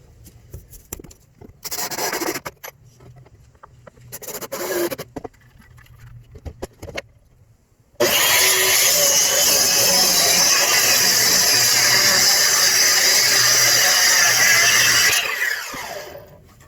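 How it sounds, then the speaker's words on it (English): Circular saw ripping a pressure-treated lumber board lengthwise in half: short bursts of the saw first, then a long, loud, steady cutting whine lasting about seven seconds before it winds down, close by with no speech. "use my circular saw to rip it in half"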